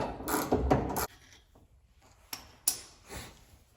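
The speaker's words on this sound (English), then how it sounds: "it's a lot easier to get these bolts off" A wrench works 11/16 bolts loose under a 1969 Pontiac Firebird, with a close burst of ratcheting followed by scattered metallic clicks and clunks.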